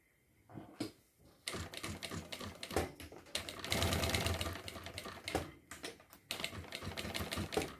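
A sewing machine stitches a strap onto a retro backpack in bursts of fast mechanical clatter, with short stops and restarts and a long continuous run in the middle.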